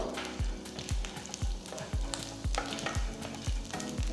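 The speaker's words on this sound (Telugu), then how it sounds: "నూనె వేడెక్కిన తర్వాత దీంట్లో ఒక టీ స్పూన్ శనగపప్పు ఒక టీ స్పూన్ ఆవాలు ఒక టీ స్పూన్ జీలకర్ర ఇది వేసి ఫస్ట్ మనం లైట్గా రోస్ట్ చేసుకున్నాం" Chana dal, mustard seeds and cumin roasting in hot oil, stirred in an even rhythm with strokes about every half second over a steady sizzle, close and moderately loud.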